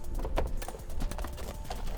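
Half coconut shells clapped together to imitate a trotting horse, giving a quick, uneven run of hollow clip-clop knocks over a steady background hiss.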